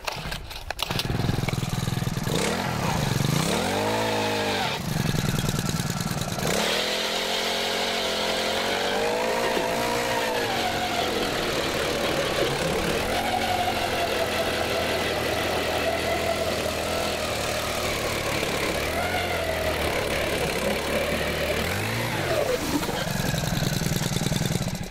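A powered ice auger bores through frozen lake ice, its engine droning and changing pitch steadily throughout, loud and close, with the revs rising and dipping as the bit bites.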